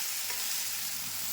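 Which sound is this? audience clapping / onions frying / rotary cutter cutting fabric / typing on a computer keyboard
onions frying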